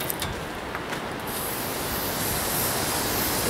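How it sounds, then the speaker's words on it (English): Fluid Film rust protection sprays from an aerosol can onto a John Deere 110 backhoe during an oil change, a steady close hiss that runs continuously and grows slightly stronger partway through. "Maybe I'll give it a spray with some stuff."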